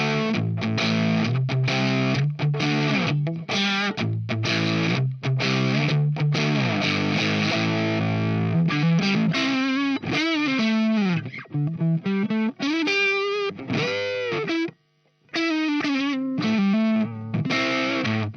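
Electric guitar played through a BOSS PW-2 Power Driver distortion pedal, with drive kept low and bass raised, giving loud, continuous fuzzy chords and riffs that run throughout with one brief break near the end.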